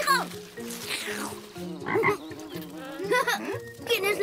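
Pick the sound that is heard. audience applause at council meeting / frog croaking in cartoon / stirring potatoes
frog croaking in cartoon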